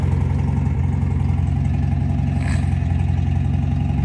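An MGB sports car engine with an SU HIF44 carburettor runs steadily, a close, even mid-pitched idle hum with light mechanical clatter and no revving.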